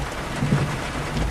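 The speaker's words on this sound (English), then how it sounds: "I can hear the thunder coming from there." Steady rain hiss during a Florida thunderstorm with a low, rolling rumble of thunder swelling faintly underneath, continuous and fairly distant.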